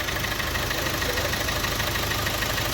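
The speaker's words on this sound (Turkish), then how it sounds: "Gaz ver arkadaşlar burada hava kaçırıyoruz." A 1.6-litre 136 HP diesel engine in an Opel Mokka with a cracked turbo pipe runs loudly and steadily up close, with a broad rushing hiss of escaping air over the engine drone.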